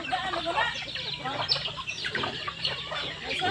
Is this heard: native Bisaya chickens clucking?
yes